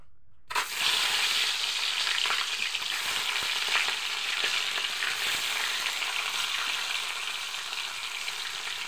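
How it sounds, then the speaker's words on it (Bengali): Rohu fish pieces hit hot mustard oil and set off a sudden, loud, steady sizzle that crackles on without a break, close and dense. "তারপর মাছগুলোকে আমি পরপর ভেজে নেব"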